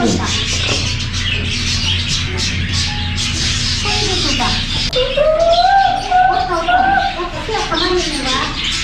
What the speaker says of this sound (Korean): 오 점점 많아져 새들이